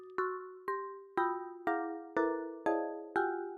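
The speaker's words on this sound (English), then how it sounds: "So that's the sound of the MIDI notes in the shape of the bunny." Synthesized MIDI notes arranged in the shape of a bunny play as seven bright, bell-like tones in an even rhythm about half a second apart. Each rings and decays, with no talk over them.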